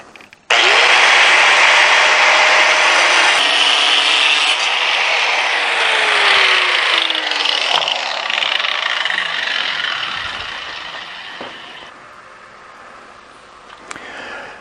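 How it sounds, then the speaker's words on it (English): A handheld angle grinder fitted with a 4 1/4 inch, 1/16 inch thick cutting blade bites into a 1-inch metal bar, a loud sustained high-pitched whine that holds steady, slowly drops in pitch as it cuts, then winds down near the end. "I've got a 4 1/4 inch, 1/16 inch cutting blade here in my angle grinder."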